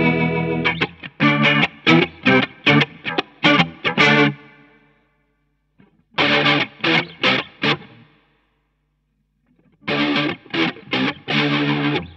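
An electric guitar runs through a Strymon Lex rotary speaker pedal with its overdrive turned all the way down, playing three loud bursts of choppy strummed chords separated by short silences, with a swirling, chorus-like shimmer and no talking.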